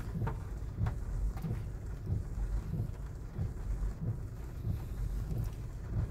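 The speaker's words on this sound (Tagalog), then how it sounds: "Maulang na araw." Steady heavy rain with a low rumbling roar throughout, like a storm, with gusty wind-like noise and no voices.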